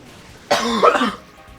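A single harsh chronic cough or throat-clearing rasps out close by, lasting under a second before quiet returns.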